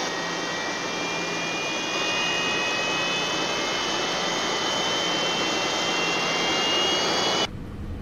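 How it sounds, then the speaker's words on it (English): An aircraft jet engine spins up during start, a loud, steady broadband roar with a high whine that builds slightly and runs continuously, then cuts off abruptly near the end. "Engine one starting."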